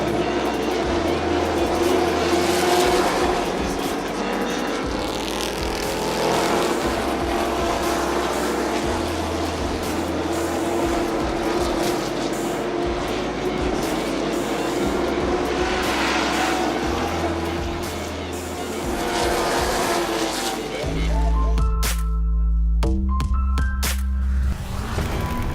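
Pickup trucks roar past at the Autodrome Chaudière drag strip in Vallée-Jonction, a dense, continuous engine drone with rising and falling passes, ending in a louder burst of deep revving.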